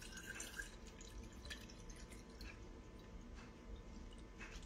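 A hydrogen water bottle being filled with water, a faint splashing and dripping trickle heard up close at low level throughout.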